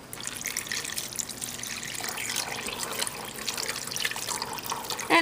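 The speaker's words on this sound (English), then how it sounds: "Then we'll go ahead and add some water." Water pours into a pot of curried black chickpeas and potatoes, a steady close trickle and splash that runs for several seconds with no talking.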